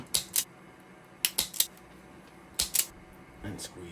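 Sharp metallic clicks come in pairs and triplets as a crimper squeezes wire connector clips on a furnace blower motor during HVAC work, close and distinct over a quiet background.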